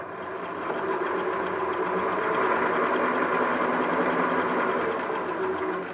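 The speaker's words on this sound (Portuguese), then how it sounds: "vou costurar primeiro esse" Sewing machine stitching a knit martingale for a knit shirt, a steady, continuous mechanical whir held at an even loudness for the whole stretch, near and alone with no talking.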